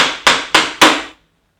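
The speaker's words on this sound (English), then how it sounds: "If it's too stuck, then use a plastic mallet." A plastic mallet taps a stuck linkage axle out of a 2020–2021 Orbea Occam mountain bike frame. Three sharp, close blows land at an even pace, each with a brief ringing decay, then the sound stops.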